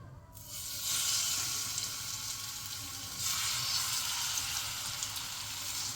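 Chicken pieces sizzle steadily in hot ghee in a pan, a loud continuous hiss that swells as more pieces are laid in one by one, with no talking.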